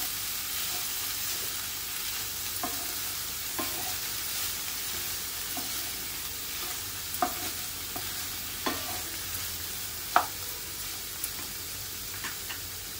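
Hand-crumbled paneer fries in a pan over low heat, a constant close sizzle with soft scattered ticks and scraping clicks of stirring, no voices over it.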